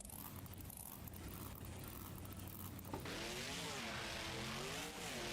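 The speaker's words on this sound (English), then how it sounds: "You can hear him shifting that truck before getting off the line" A monster truck in the BeamNG video game sits at the start line of a Monster Jam event, its engine revving and shifting through gears, with a crowd-like roar in the background.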